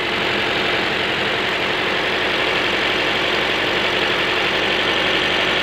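A car engine idles roughly with a misfire while a cylinder component is disconnected, giving a loud, steady, close-up mechanical drone with an uneven, stumbling pulse throughout.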